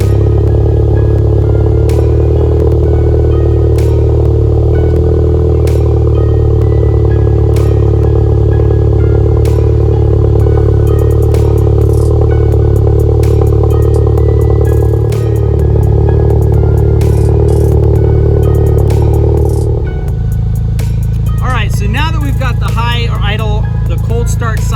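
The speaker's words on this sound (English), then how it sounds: "we should be able to hear about what the car sounds like when it's on a cold start in the morning" A VW MK7 Golf R with a Nameless Performance exhaust idles loudly from a cold start, recorded inches from the tailpipe, a steady deep drone with intermittent clicks. The note drops and settles toward a lower idle near the end.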